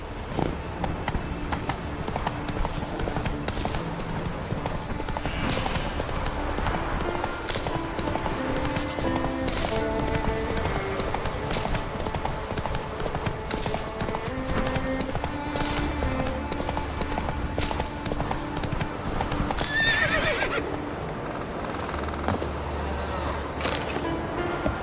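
Steady galloping hoofbeats from a horse in The Witcher 3 run continuously and close, with a brief neigh near the end and ambient game sounds underneath.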